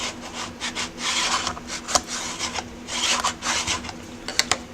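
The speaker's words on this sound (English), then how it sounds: "And burnish." Hand burnishing of a handmade suitcase, a dry, brisk rubbing scrape repeated in quick strokes with a few sharp clicks, close and fairly quiet.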